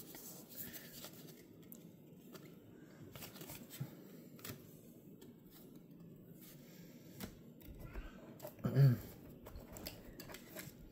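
2024 Bowman trading cards being sorted into piles, soft scattered ticks and slides of cardboard on a table, quiet and irregular, with one louder handling thump near the end.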